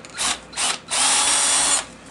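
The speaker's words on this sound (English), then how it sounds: "I'm going to drill a hole through a bone here" A power drill drilling through black bear bone whirs in two short bursts, then runs steadily for about a second before stopping, loud and close with a high grinding whine.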